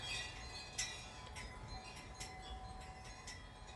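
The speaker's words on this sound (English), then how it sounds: "So excuse my wind chimes." Wind chimes tinkle outside in a gale of spring wind, scattered faint glassy clinks ringing over a steady low rumble of wind, fairly quiet and distant.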